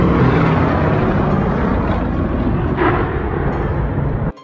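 A Boeing B-17 Flying Fortress and a Bell P-63 King Cobra, propeller warplanes at an air show in Dallas, Texas, fill the air with a loud, steady engine roar that stops abruptly.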